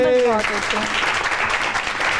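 A studio audience at a Ramzan iftar television transmission breaks into applause after a brief voice at the start, the clapping continuing as a steady dense wash.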